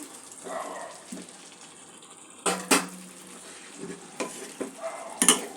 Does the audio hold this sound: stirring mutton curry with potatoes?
yes